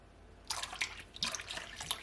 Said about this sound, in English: I'm gonna add my dragon stout